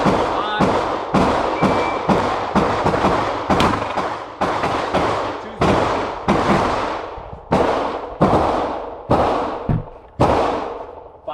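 Rapid series of pistol gunshots at a shooting range target during a shield standards drill, about fourteen loud sharp reports in an uneven rhythm with brief pauses, each leaving a short echoing tail.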